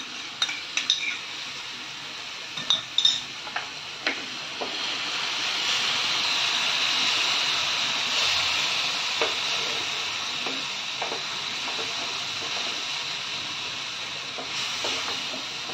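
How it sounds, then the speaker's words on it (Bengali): Chilli and turmeric paste frying in a pan for Bengali prawn curry, a steady soft sizzle with a few sharp utensil clinks and scrapes early on, no talk. "এবার আমি লঙ্কার গুঁড়ো আর হলুদের গুঁড়ো যেটা গুলিয়ে রেখেছিলাম সেটা দিয়ে দিলাম"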